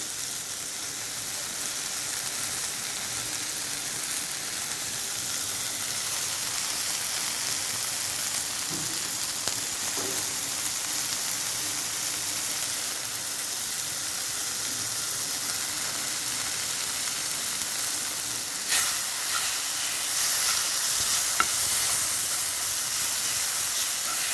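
Chicken meat stir-fries in a pan, a long steady hiss of sizzling with faint scrapes and a few clinks near the end, no talk over it.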